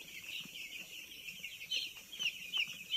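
Broiler chicks five days old feeding at a feeder make soft, steady high-pitched cheeping and chirping as a busy close flock, with a few louder peeps rising near the end.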